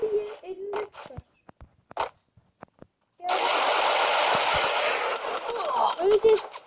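Rapid automatic gunfire in a Free Fire mobile battle game sustains for several seconds, loud and dense, after short bursts of talk and scattered clicks, with a voice breaking in near the end.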